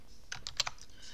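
Computer keys are pressed in a quick run of about five sharp, close clicks with near silence between them, no talk over them.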